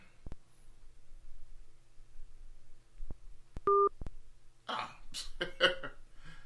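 Telephone dialing for a radio talk show call-in, a brief steady touch-tone beep amid scattered clicks, followed by coughing and throat clearing.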